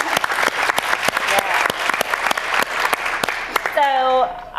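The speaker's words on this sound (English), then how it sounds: "Round of applause for the intern." A conference audience applauds an intern: crisp, steady clapping from a room of people, fairly close and continuous, fading out near the end as a brief voice sound comes in.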